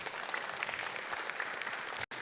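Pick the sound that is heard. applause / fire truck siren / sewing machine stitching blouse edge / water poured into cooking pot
applause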